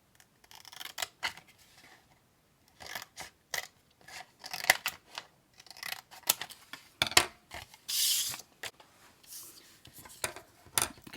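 Scissors snip through paper tab dividers for cash envelopes, making a series of short crisp cuts in irregular bursts, close and fairly quiet, with soft rustling of paper between them.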